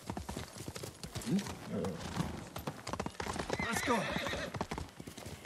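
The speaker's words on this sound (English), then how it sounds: "Come on, horsey. Where are you?" Horse hooves in the video game Ghost of Tsushima, rapid clip-clop footfalls with a horse's whinny, heard close under a short spoken shout and busy game ambience.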